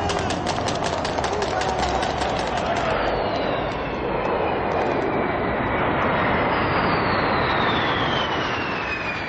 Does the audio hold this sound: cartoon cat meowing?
no